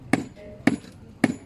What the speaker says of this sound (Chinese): 你用那锤子给它凿细呗